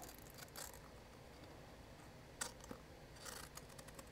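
Scissors snip through paper for a junk journal page, a few soft, scattered cuts and clicks over quiet background noise.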